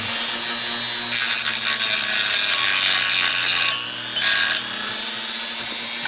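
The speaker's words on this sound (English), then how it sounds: "So here's like a 80 or 60 grit sanding drum." A rotary tool fitted with an 80 or 60 grit sanding drum smooths grinding marks on a cracked bronze dinosaur statue. A steady motor hum underlies bursts of loud, gritty abrasive rasping, with a brief pause near the end before sanding resumes.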